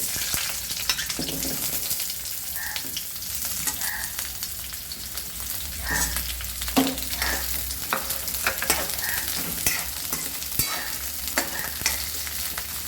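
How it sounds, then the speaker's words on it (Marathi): Onions frying in a little oil in a wok, a constant crackling sizzle broken by repeated scraping stirs of a spatula, close and steady. "कांदा आणि टमॅटो हे आपण कढईमध्ये तेल घालून भाजणार"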